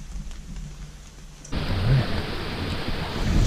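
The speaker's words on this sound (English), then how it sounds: "It's raining out." Steady rain falls outdoors on a mountain hike near a campsite, a soft hiss that swells louder and denser partway through, with low rumbles underneath and no talking.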